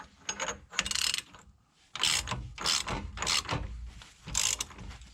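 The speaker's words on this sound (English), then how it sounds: "I'm tightening this nut, which is pushing the bolt through the nut" Ratchet cranking a nut onto a suspension bolt on a Mercedes W124, heard as several bursts of rapid metallic clicking separated by short pauses, close and moderately loud.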